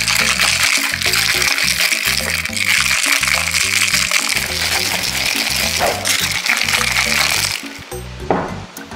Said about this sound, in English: So once you've added the ice, feel free to shake away.